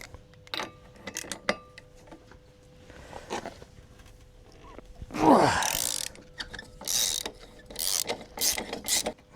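A mechanic loosens a part on a car with a ratchet wrench during gearbox removal, giving close bursts of rapid clicking ratchet strokes and metallic clanks, with a louder grinding turn in the middle.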